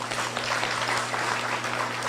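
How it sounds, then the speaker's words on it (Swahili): Audience applause at a Kenyan political gathering: continuous broadband clapping from a crowd, steady and fairly loud, with a faint constant hum beneath and no speech. "Mujipigie makofi."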